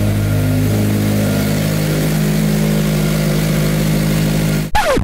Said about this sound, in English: Just let it idle for a second.